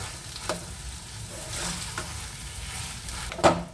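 Spoon stirring a vegetable chop mixture with two spoonfuls of bread crumbs, soft scraping strokes under a faint steady background, with a sharper scrape near the end.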